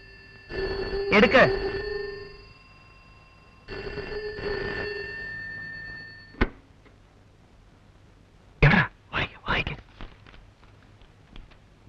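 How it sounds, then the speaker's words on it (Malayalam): A telephone in a film scene rings twice in long electronic bursts, with a faint tap between the rings. Voices and movement follow near the end. "ആ, ഫോൺ എടുക്ക്"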